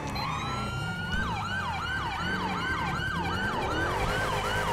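A wailing police siren in the game LSPDFR cycles rapidly up and down, loud and steady, with an engine rumbling beneath it and no voices.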